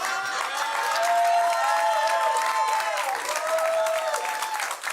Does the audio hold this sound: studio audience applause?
yes